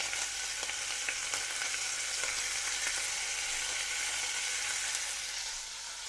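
Sausage dumped into a soup pot for cheeseburger soup fries with a steady, faint hiss and light crackle, heard alone at a moderate distance.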